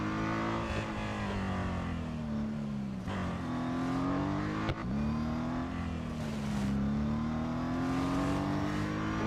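A race car engine in Real Racing 3, driven in an autocross event on Suzuka's West Circuit, drones loudly and steadily throughout, its pitch rising and falling with revs and gear changes and a brief sharp shift near the middle.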